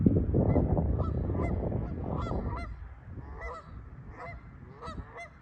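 Geese honk repeatedly on a beach, a loose chorus of calls over a heavy low rumble that fades partway, leaving the honks clearer and slightly distant.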